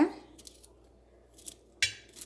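A knife chops okra into small pieces for a ladies finger fry. A few crisp, separate taps and clicks of the blade land on the board amid quiet pauses.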